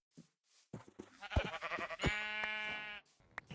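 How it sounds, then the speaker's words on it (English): Sheep bleating in Minecraft, a couple of short nasal bleats followed by one longer wavering bleat, fairly faint and close, with no talking over them. "And am soon rewarded with some sheep"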